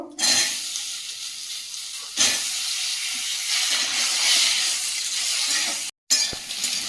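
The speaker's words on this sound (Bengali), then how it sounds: "কেটে রাখা আলুগুলো ভেজে নেব" Cut potatoes frying in hot oil give a strong, steady sizzling hiss close by, with a brief dip near the start and a short silent gap near the end.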